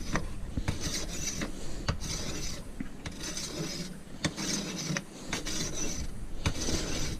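A hand sickle blade is rubbed back and forth on a sharpening stone in steady rasping strokes, close and clear, with occasional sharp taps between passes.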